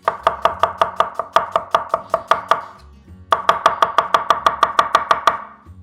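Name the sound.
chopping onion finely with a knife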